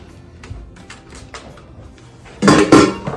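Rinsed beans are poured into a Thermomix simmering basket, heard as a loud, close clattering rush of hard beans against the metal basket after a few soft knocks and handling sounds.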